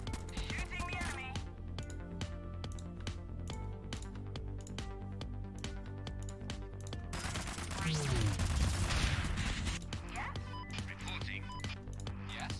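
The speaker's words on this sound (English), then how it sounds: "Shooting the enemy." Rapid gunfire in a strategy video game rattles in dense bursts throughout, swelling into a louder volley with a descending whine midway, and a synthetic voice talks over the shots.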